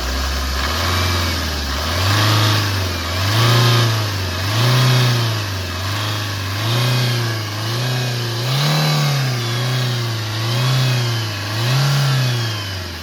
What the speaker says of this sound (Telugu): ఇప్పుడైతే నేను గేజ్ పుల్లను తీస్తా, యాక్సిలేటర్ ఇప్పిస్తా, మీరు చూసుకోవచ్చు.